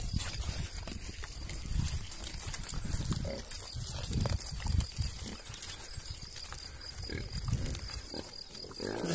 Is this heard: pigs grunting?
yes